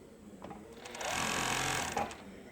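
A Juki MF-7523 coverstitch machine sews in a steady, loud whir lasting about a second, with quieter handling clicks before and a brief stop-and-start after.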